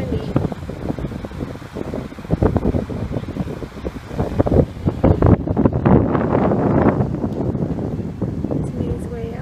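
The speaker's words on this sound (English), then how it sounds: "I apologize, it's super windy." Gusty wind buffets the microphone in a constant low rumble, with some faint talk underneath, on the Trinity River Trails.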